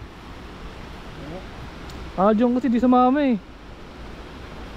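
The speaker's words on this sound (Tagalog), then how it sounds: "Lakas ng agos" Strong river current rushing at a river resort in Nagcarlan, Laguna, a steady broadband wash running throughout, with a voice speaking briefly over it midway.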